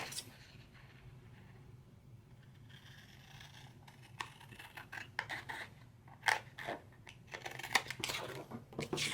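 Scissors cutting paper straight for a small handmade accordion book, a series of close, crisp snips and slicing rasps that grow more frequent and louder toward the end over a quiet room background.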